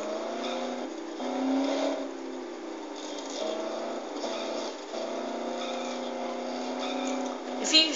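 A car in the zombie game Dead Island drives steadily, its engine droning and revving throughout under game sound, with a sharper burst near the end.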